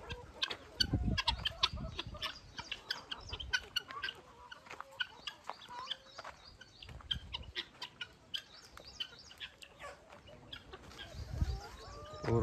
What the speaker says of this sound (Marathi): मुक्त संचार गावरान कुक्कुटपालन मित्रांनो पूर्ण फ्री रेंज मध्ये